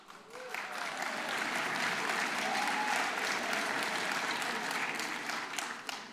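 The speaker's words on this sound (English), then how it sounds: "we'll hold our applause until they're standing" Audience applause at a university presidential investiture ceremony, a large hall of steady clapping that swells in after a brief quiet start and stays full and even, tapering slightly at the end.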